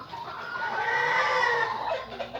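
A caged wild junglefowl gives a single short, thin crow, close and clear, rising and then trailing off over about two seconds with no talking.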